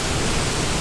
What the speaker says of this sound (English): this is the waterfall I was talking about